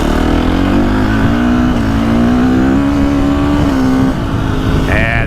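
A KTM 350 XCF dirt bike revs hard and runs through gears with a quick shifter, its loud engine note climbing steadily with brief dips at each shift, continuous and close throughout.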